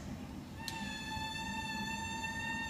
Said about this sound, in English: The oboes learned how to make what's called a crow on their reed